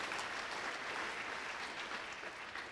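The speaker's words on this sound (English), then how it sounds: "Yeah, I think that deserves applause," Applause from a gala audience honoring Red McCombs: a dense, even wash of many hands clapping, heard from a distance and fairly faint, holding steady for a few seconds before easing off slightly at the end.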